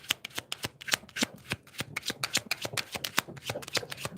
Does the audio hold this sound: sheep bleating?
no